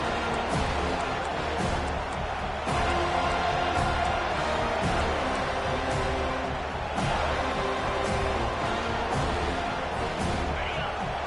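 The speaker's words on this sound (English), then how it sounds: "Listen to this crowd just shaking the girders of this place trying to help their defense." Stadium crowd at a college football game between Clemson and FSU roars steadily through a defensive third down, a dense continuous wall of cheering with commentators talking over it.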